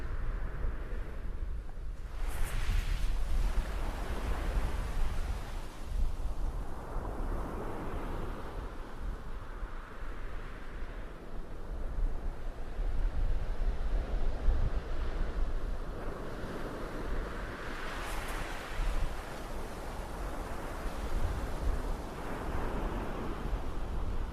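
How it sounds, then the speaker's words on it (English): Sea waves on the coast roll in and break in long, repeated surges, with a constant wash of surf and gusting wind buffeting the microphone. "We'll finish with some sea."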